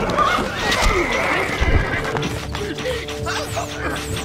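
A horse in the strategy game Stronghold Crusader gives a loud whinny mixed with clip-clopping hooves and thuds from the game, with no voices over it.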